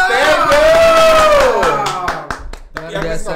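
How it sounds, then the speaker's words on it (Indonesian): A voice holds a long, rising shout, then scattered hand claps follow in a loose rhythm, close and moderately loud. "Tepuk tangan dong."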